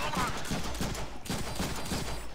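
Rapid gunfire from the Deadpool video game, bursts of shots repeating steadily at close range and loud throughout.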